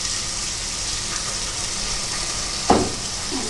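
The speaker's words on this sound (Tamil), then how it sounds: "இப்போ வெங்காயமும் போட்டுக்கிறாங்க." Onions frying in hot oil for a chicken curry, a steady broad sizzle throughout with a brief louder hiss near the end as something is stirred or added.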